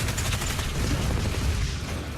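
Demons blowing apart in the DOOM Eternal video game, a dense rapid crackle of explosive bursts and rumbling booms running continuously, loud and close, with no talk over it.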